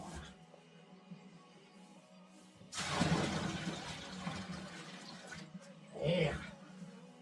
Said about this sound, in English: we are going to pour in some nice hot molasses water